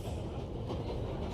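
A train rolls along its rails in the video game 11-11 Memories Retold, giving a steady, loud low rumble with a faint rhythmic clatter and no voices.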